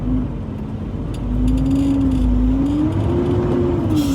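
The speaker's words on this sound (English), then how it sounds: "I'll put it on first gear again, and then I gas the truck forward" A manual transmission truck pulls forward in first gear, its engine a steady low drone that rises in pitch as it gains speed, close and continuous throughout.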